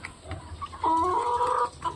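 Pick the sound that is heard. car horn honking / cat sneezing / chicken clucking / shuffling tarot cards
chicken clucking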